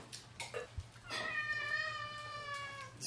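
A house cat meows near the microphone, a drawn-out tonal cry with clear harmonics lasting about two seconds, following a few short vocal sounds in a kitchen setting.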